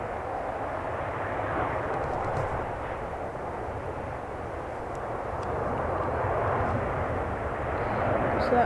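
A Ryanair Boeing 737 airliner at Manchester Airport gives a steady, broad engine roar that holds at a moderate distance and swells slightly toward the end.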